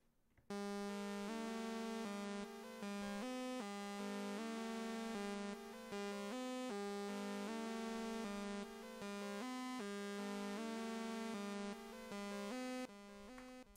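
Serum synth saw wave with halftime applied partway and delay added, playing a steady repeating melodic pattern of sustained, harmonically rich notes at even loudness, alone with no voices.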